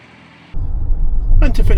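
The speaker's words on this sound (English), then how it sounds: "Here comes a load of cars and a tractor by the sounds of it." Cars and a tractor pass by on a rural road in the Dordogne, a rising low rumble of engines that builds and grows louder toward the end.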